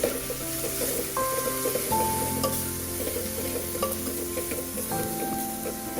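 Chili powder, red chili powder and masala being stirred in a hot pan for Nagpur-style tarri poha, a steady sizzle with soft stirring scrapes throughout, close and moderately loud, with no talking.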